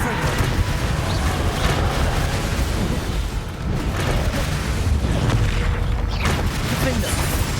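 Confringo fire-spell blasts from Hogwarts Legacy boom and crackle in a busy combat scene, dense rumbling explosions with bursts of debris, under a voice speaking.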